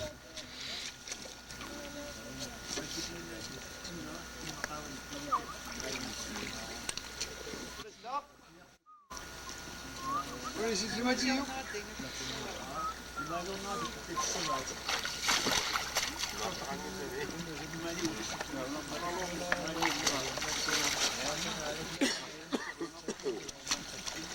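Greenland kayak paddle working the water, steady sloshing and splashing with rushing water noise throughout, someone talking over it most of the time.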